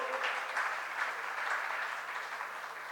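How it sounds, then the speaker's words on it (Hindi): Audience clapping at a Hindi religious discourse gathering, a steady, fairly faint patter of many hands without a break. "अभी से हम एडवांस में ताली बजा दें"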